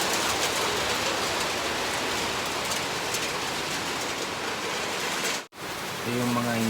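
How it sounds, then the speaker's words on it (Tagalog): Heavy rain pours steadily in a continuous dense hiss at a home kitchen, holding level for several seconds before a brief dropout, then resuming with faint tonal sounds underneath. "Malakas ng ulan guys. Kaya tignan nyo guys oh. Yan, umuulan."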